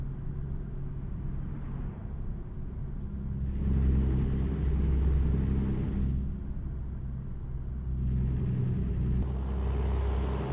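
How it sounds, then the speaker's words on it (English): A vehicle drones past in American Truck Simulator, a steady low engine rumble swelling and fading twice, with a faint tonal whine drifting in pitch overhead. "Car is coming. Car is coming."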